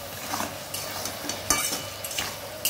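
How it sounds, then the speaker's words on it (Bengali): Spice paste for a vegetarian lentil-fritter curry being fried and stirred in a pan, with a continuous close sizzle and irregular scraping strokes from a utensil against the pan, and no voices. "ভালো করে মশলাটা দিয়ে কষে নেওয়া হচ্ছে"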